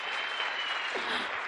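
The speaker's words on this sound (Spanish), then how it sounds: "Salva de palmas vigorosa para Ana Dombi" Vigorous applause for speaker Ana Domb at a talk, a dense, steady wash of clapping from an audience, loud and continuous without pause.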